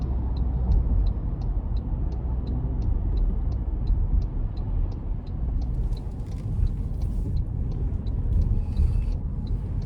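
A 2026 Toyota Tacoma SR5 with the 2.4 engine pulls hard up an interstate on-ramp, a steady droning engine and road roar with a faint regular ticking running through it, no voices.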